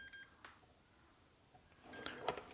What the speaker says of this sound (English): You can also hear an audible beep,